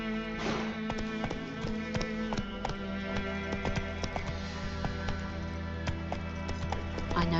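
Horse hooves clip-clopping at a steady, fairly quick rhythm in The Witcher 3, with a continuous tonal background and a faint voice nearby.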